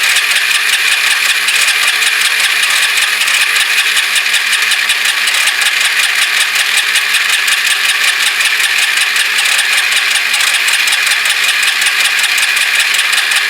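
A Kawasaki BN125 Eliminator motorcycle engine is being started after MOT work, a loud, close, continuous mechanical chug with rapid regular pulses that holds steady for the whole stretch, no voices.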